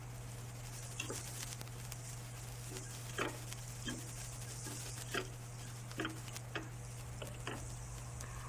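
A spoon stirs sautéed onion and turmeric in a pan, making intermittent scraping taps and soft clicks over a gentle sizzle and a steady low hum, with no talking.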